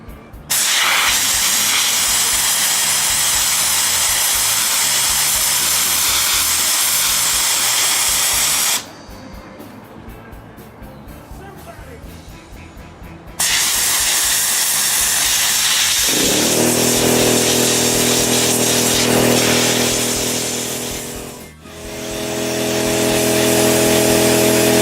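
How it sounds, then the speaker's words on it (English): A sandblaster hisses loudly and continuously as it strips rust off the frame and small parts of a Suzuki GS550 cafe racer motorcycle. It stops for a few seconds in the middle, then starts blasting again. "back to a little sandblasting to get rust off of the frame and some of these smaller bits"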